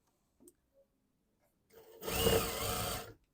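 A sewing machine stitching a circle into folded layers of cloth: a few soft clicks, then a loud continuous whirring run of about a second and a half, alone without talk.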